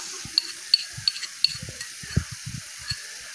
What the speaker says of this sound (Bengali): সব মশলাগুলো দিয়ে এবার ভালো করে কষবো।